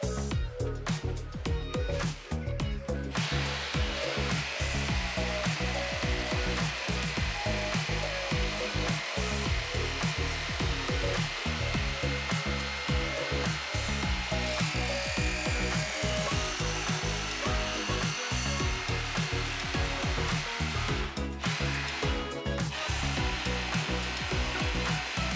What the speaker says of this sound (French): on commence à réaliser les découpes à l'aide d'une scie sauteuse